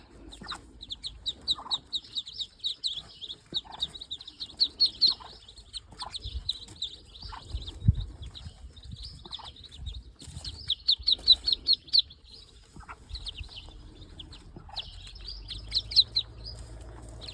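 Newly hatched Muscovy ducklings with their mother give a long, dense stream of high peeping in rapid bursts, near and continuous, with faint low handling noise beneath and no voices.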